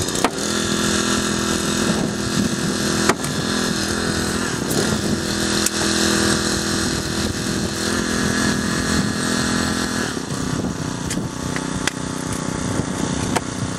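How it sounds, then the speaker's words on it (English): Rescue generator powering extrication tools at a road traffic collision training scene, running loud and continuous with a busy buzzing engine tone that shifts partway through as it leaves eco mode, with a few sharp clanks over the top. "we can see the difference in noise of the generator, where it's going from eco mode to"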